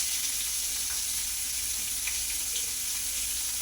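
Green chili, garlic, curry leaves and onion sauté in a hot pan for tomato chutney, giving a soft, steady sizzle that stays low and even throughout, with no talking.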